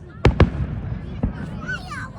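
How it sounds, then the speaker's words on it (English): Fourth of July fireworks, two sharp booms in quick succession followed by a fainter third bang, moderately distant, with a voice reacting during the clip. "I am used to fireworks."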